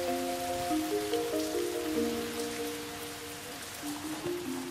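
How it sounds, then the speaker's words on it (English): Steady rain falls on a wet morning in London at the Royal Mews, a soft, even patter throughout, with faint sustained musical tones underneath. "Lovely wet morning in London."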